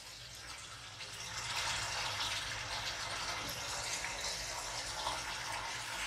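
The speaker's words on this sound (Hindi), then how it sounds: "मैं इसमें तकरीबन 1 गिलास के करीब पानी डालकर" About a glass of water is poured into a pot of masala cooking for mutton bhindi shorba, a soft steady gush that swells after the first second and runs continuously, fairly quiet.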